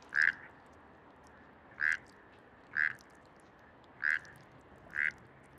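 Frogs call at a pond in Bogotá, sending out five evenly spaced, short, nasal croaks roughly a second apart against a quiet background.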